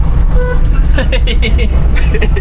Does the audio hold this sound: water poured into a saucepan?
no